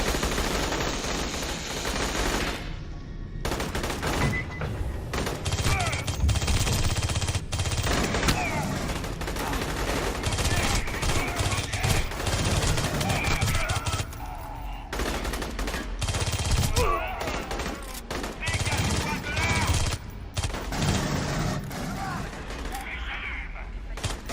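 Sustained bursts of gunfire from the Aliens: Colonial Marines game as marines shoot at aliens, dense rapid automatic fire running almost continuously with brief gaps, loud and up front, with some speech mixed in.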